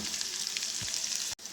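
Tadka (tempering) for palak chana dal fries in a pan with a steady, close, bright sizzle that cuts off abruptly near the end.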